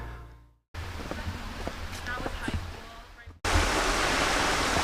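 A mountain stream runs at a water crossing on the Grotto Falls trail in the Great Smoky Mountains, a steady rushing flow that swells louder near the end, with a few scattered footstep-like knocks.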